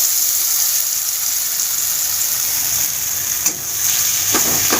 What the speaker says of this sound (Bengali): যে পেস্টটা করলাম সেই পেস্টটা দিয়ে দিলাম তেলের মধ্যে